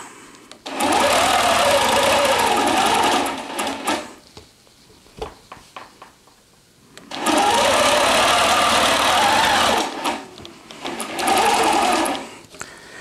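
Longarm quilting machine stitching a dog placemat with rulers, with three bursts of rapid, whirring needle chatter separated by pauses of quiet clicks and handling.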